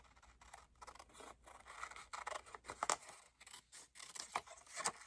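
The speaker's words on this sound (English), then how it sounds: "I'm just going to trim around it." Scissors trimming around a paper journal page to make a pocket: continuous close rhythmic snipping and paper rasping, dense and steady with brief gaps between cuts, no talk.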